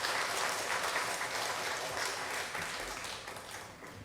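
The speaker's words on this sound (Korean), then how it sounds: "다 같이 다시 한번 박수로 환영해 주시기 바랍니다." A church congregation at a Sunday service claps together in sustained, even applause that fills the room and slowly fades over a few seconds.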